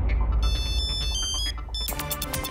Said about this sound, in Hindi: फोन किसने किया रे बाबा?